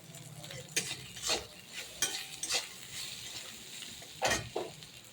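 Pan frying flowers with scraping and stirring: several sharp scrapes and clatters over a steady low sizzle, close up, with no voices.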